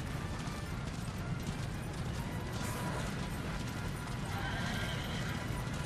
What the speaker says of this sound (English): Ruin is the stupidest video game horse I've ever ridden